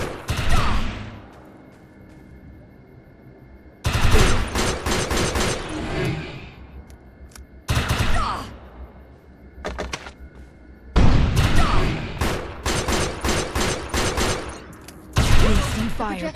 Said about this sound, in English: Shoot the projection while overcharge is activated.